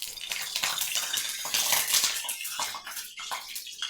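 Mustard oil spatters and crackles in a hot pan after water from a spatula hits it, a loud, busy hiss with scattered pops that eases off briefly and then resumes, close up and without talk.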